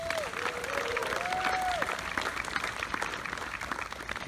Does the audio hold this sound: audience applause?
yes